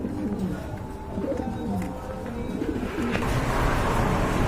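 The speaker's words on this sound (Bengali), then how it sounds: "এখানে দেখতে পাচ্ছেন এক জোড়া গিরিবাস কবুতর রয়েছে" A pair of Giribaz pigeons coos softly at a pigeon sale, the low murmuring calls repeating over a busy background with some voices nearby.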